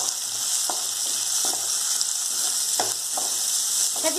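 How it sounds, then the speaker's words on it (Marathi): Dal and peanuts sizzle steadily in a hot pan while being sautéed for rava upma, a continuous close frying hiss with a few soft stirring scrapes. "डाळवं आणि शेंगदाणे टाकून आपण थोडंसं परतून घेऊयात।"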